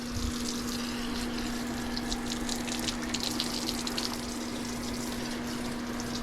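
Water rinsing stripped varnish off a wooden fighting chair, a steady continuous gush and splash running throughout with a constant low hum from a pump beneath it.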